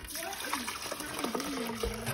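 A mixture of vinegar and water is poured into a Keurig coffee maker's water reservoir, a close, continuous trickling and splashing of liquid lasting a couple of seconds.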